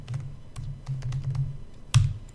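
Keystrokes clatter on a computer keyboard in quick bursts of taps with short pauses between them, ending in one louder press, close and clear with no talking.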